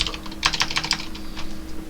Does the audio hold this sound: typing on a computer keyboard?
yes